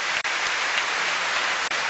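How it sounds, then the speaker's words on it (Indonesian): A studio audience on an Indonesian talk show claps for Pak Nurdin, a dense, even wash of applause that barely dips twice before carrying on at full strength. "Tepuk tangan untuk Pak Nurdin."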